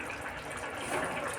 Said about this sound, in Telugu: నేను మళ్ళీ కొద్దిగా వాటర్ యాడ్ చేసుకున్నాను.